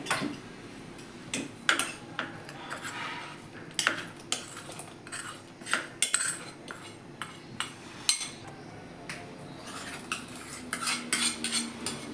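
A metal spoon clinks against a pot of moong dal payasa as ghee-fried raisins and cashews are stirred in. Sharp, irregular taps sound close by over a faint background, with no talking.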